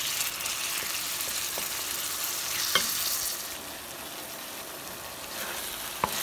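Boneless chicken pieces fry in a pot for a creamy handi, giving a steady, loud sizzle with no talk and a couple of brief clinks from stirring.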